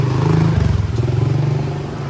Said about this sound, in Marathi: इथे मोस्टली मोटरसायकल बघायला भेटेल सर्वीकडे